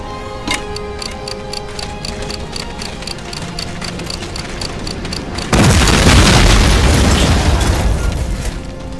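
In the Medal of Honor: Allied Assault game, a planted explosive charge ticks steadily before detonating to destroy a Flak 88 gun, the rhythmic timer giving way to a loud, sustained roaring blast.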